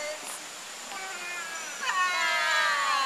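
A child imitates a cat's meow, a high, drawn-out whining voice with gliding pitch that grows louder and steadier toward the end.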